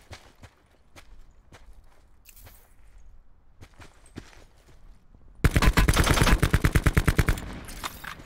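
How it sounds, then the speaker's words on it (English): Sentry guns open up in a video game with a sudden loud burst of rapid automatic fire, following several seconds of quieter scattered clicks and footstep-like taps. "there's sentry guns in this shit now"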